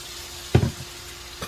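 Hotdog meat in a hot pan, freshly wetted, gives a faint low sizzle punctuated by a couple of short scraping knocks from a utensil, then a softer tap near the end.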